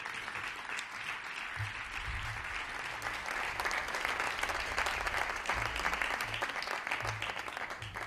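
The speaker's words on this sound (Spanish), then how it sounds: "Un fuerte aplauso para él" Loud, sustained applause from an audience at a short-story reading event honoring Hitchcock, welcoming a radio announcer; dense clapping holds steady throughout with no voices over it.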